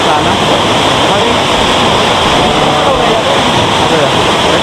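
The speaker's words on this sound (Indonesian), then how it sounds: "sekarang kita sudah berada di air terjun" Waterfall at Malino pouring in a steady, loud, continuous rush of broadband water noise that fills the whole clip without letup.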